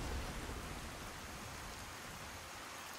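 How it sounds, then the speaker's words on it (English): Steady rain falls in the Skyrim video game, a constant even hiss of drops with no pauses, moderately quiet and unaccompanied by voices. "And it's raining."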